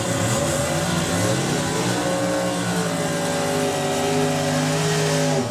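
Drag racing cars at the Springspeed Nationals run down the strip, one driver on a throttle stop, their loud continuous engine roar rising in pitch across the whole stretch.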